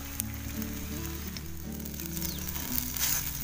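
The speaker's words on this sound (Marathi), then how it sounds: "परत साईडने असं तेल सोडूया आणि असं खरपूस चांगलं असं भाजून घ्यायचं।" Vegetable dhirde, small savory pancakes, pan-frying in oil as more oil is poured around the edges to crisp them. A steady, fairly loud sizzle runs throughout with no talking.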